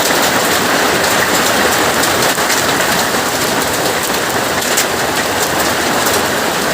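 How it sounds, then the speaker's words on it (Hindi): Heavy rain mixed with hail falls close by in a constant, loud downpour. Dense patter and drumming continue without any break. "अभी तो बारिश हो रही है बीच बीच में ओले भी पड़ रहे हैं"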